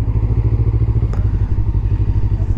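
A motorcycle engine runs close by at low speed while the rider manoeuvres in a tight spot on a touring trip in France; a deep, throbbing idle-like rumble pulses steadily, with a faint clatter partway through.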